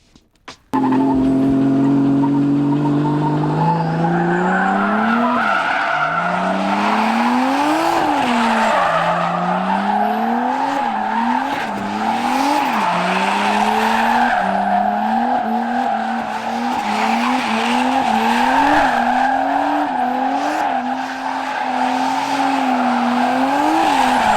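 A car drifts in circles around a cone, its engine revving and its tires squealing continuously in rising and falling waves, loud and close throughout.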